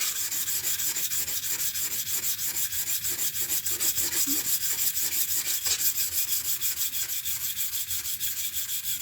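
A knife blade being sharpened on a sharpening stone during a sharpening class, a continuous rhythmic scraping in quick regular strokes, close and steady for the whole stretch without any speech.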